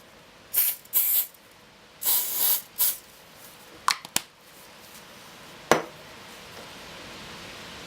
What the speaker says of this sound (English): Give it a bit of a spray with the activator.